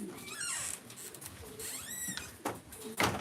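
A racing pigeon in a loft gives short, rising and falling coos and chirps, several calls close by at a low level, with faint shuffling and no speech.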